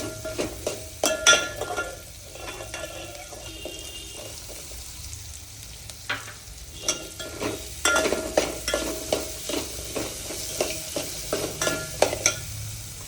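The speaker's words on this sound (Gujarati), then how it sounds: "હવે આમને બરાબર બધું હલાવી લેશું" Chili frying in a pan is stirred with a utensil, giving repeated scraping and clinking strokes over a steady low sizzle, close and moderately loud, with short bursts of activity and pauses and no talking.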